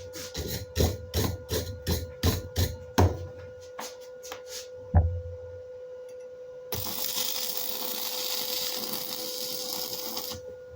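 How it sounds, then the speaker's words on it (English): A hammer taps welding slag off a weld, a series of sharp metallic taps in quick succession, then a few isolated knocks, followed by a steady hiss of grinding or brushing. "you want to either tap this slag off with a hammer"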